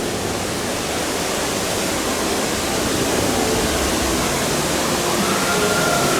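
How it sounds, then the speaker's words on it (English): Rushing waterfalls among rocks beside the Chiapas ride queue line at Phantasialand, a steady, dense roar of falling water, close and loud, with no talk. "walking down here by all the rocks and waterfalls"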